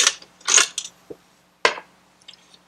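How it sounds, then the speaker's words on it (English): A bolt is pulled from a Dillon XL750 reloading press mount: a few sharp metallic clinks, scrapes and ratchety clicks sound up close, spaced irregularly with quiet gaps between them. "now we're just going to pull this back bolt out"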